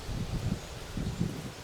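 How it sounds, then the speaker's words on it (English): Wind rustling leaves in the woods on a gusty day during a turkey hunt, a soft low-pitched rushing that swells and fades in brief gusts, faint and steady, with no voices. "So it's pretty windy right now."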